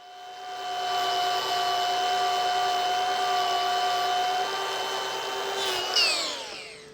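An electric grinder trims overgrown horn on a cow's hoof with an ulcer, a steady close whine that holds for several seconds and then drops in pitch as it winds down.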